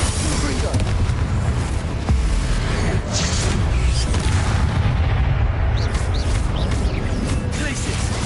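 A Confringo fire spell explodes during Hogwarts Legacy combat on PS5, a deep boom set in a loud, busy mix of blasts and battle noise. The din stays dense throughout, with a heavier thud partway through.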